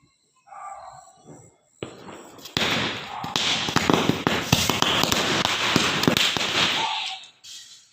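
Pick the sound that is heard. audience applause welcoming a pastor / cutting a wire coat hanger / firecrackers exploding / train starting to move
firecrackers exploding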